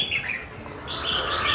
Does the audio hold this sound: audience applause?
no